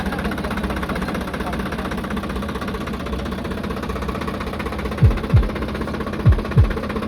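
A tractor engine runs with a steady mid-low chugging drone at moderate distance, continuous throughout, with a few short thumps toward the end.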